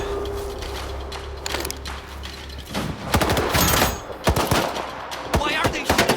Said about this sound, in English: Why are they shooting at us?